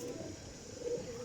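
A Sialkoti Jaunsira pigeon giving a brief, low, soft coo that swells slightly near the end, set in a steady background hum.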